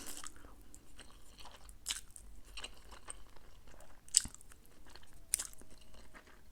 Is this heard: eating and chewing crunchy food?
yes